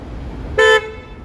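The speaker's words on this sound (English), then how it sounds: "Why are you honking at me?" One short, loud car horn honk blares on a Toronto street, close by, above a low traffic rumble.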